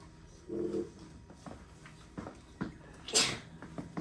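A single sneeze bursts out sharply in a classroom, preceded by faint shuffling and small bumps around the room.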